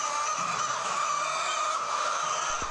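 A large flock of laying hens on a Brazilian egg farm fills the air with a dense, continuous chorus of overlapping clucks and calls, steady and loud throughout.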